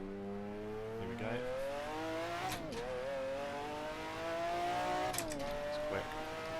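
McLaren F1 GTR racing car engine in Assetto Corsa on the Nordschleife, a loud, continuous high-revving roar with rising pitch through the gears and two sharp shift drops, no talking.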